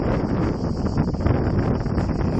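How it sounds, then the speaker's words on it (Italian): Strong wind gusting during a forest fire, a loud, rough buffeting roar battering close to the microphone throughout, with no talk. "C'è un forte vento che sta alimentando le fiamme"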